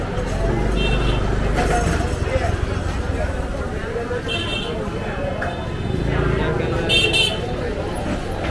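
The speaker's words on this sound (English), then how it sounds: "What's the point in beeping and honking?" Vehicle horns toot and honk repeatedly amid dense Old Delhi street traffic, several short beeps standing out over a constant rumbling roar of engines and road noise close by.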